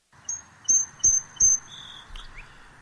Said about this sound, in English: I came across this bird. So give a listen and enjoy.